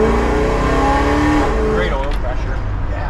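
A 1966 Plymouth Satellite convertible with a Hemi V8 revs loudly and close up, its deep rumble swelling and then easing back to a rougher idle.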